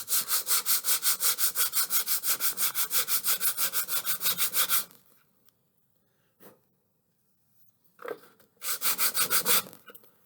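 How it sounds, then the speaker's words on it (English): Rapid, rhythmic strokes of sandpaper rasping back and forth over the wooden end of a popsicle-stick model biplane, a steady scratchy burst, then a pause with small knocks before another quick run of strokes. "I'm doing a little bit of sanding on the end of the aeroplane as well."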